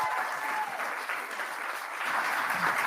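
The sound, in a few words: audience applause at theater celebration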